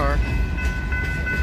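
The last car of a northbound freight train rolls past at night in North Salem, Oregon, a low rumbling clatter of wheels on rail, with a brief tonal squeal near the start and a steady whine running through.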